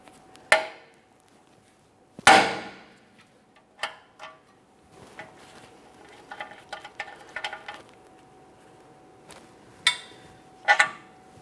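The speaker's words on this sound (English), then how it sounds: "we're going to lightly tap on the steering knuckle with a hammer, causing vibration" Sharp metallic hammer taps on a steering knuckle, isolated strikes spaced a second or two apart, then a quicker cluster of lighter taps and a final double knock.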